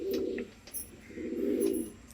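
Pigeons cooing in a loft: two low, throaty rolling coos close by, with a faint chirp between them.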